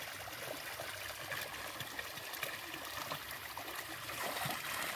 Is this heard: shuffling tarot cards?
no